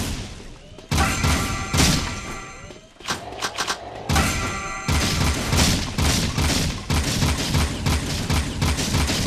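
Volleys of shots from the player's weapon in the video game Jak 2 hammer out in dense, loud bursts, interrupted by a brief lull, layered over booming game effects and a tonal score.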